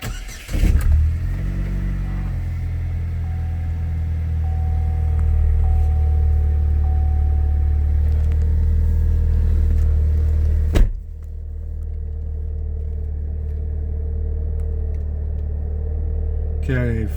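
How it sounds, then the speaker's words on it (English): A 2006 Pontiac Solstice convertible cranks and fires, then settles into a loud, steady idle with a brief blip partway through, close to the car. "this is the Pontiac Solstice, and I'm about to start her up for you"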